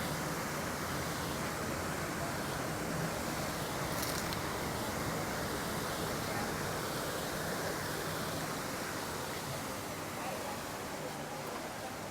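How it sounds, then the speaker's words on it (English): Jumping water fountains at EPCOT during the Flower and Garden Festival splash in a steady, dense outdoor wash of water noise that lasts throughout, with crowd ambience mixed in. "All the jumping water."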